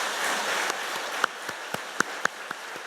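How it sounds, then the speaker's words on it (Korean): A church congregation applauds elderly members during a Sunday service, a diffuse wash of clapping with a few sharper nearby claps standing out. "진심으로 감사하는 마음을 담아서 크게 한번 박수하겠습니다"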